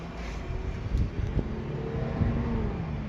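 A 1996 Hyundai Accent engine idles nearby, a low steady rumble with a couple of brief blips in revs, and no voices.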